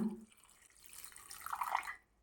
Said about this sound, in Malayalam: ഇതിലേക്കിനി കുറച്ച് വെള്ളം കൂടി ഒഴിച്ചു കൊടുക്കാം